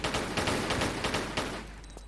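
Rapid bursts of gunfire from the game Tomb Raider crackle in quick succession at bats, a loud fusillade of roughly a dozen shots that stops near the end, with no talking over it.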